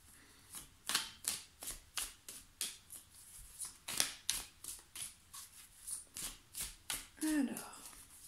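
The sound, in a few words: shuffling oracle cards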